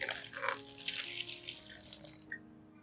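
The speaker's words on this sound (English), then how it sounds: "you place the orchid leaf in a cup and add clean water." Clean water pours steadily into a cup for an orchid leaf, a close, continuous splashing stream that stops abruptly near the end, followed by a faint drip.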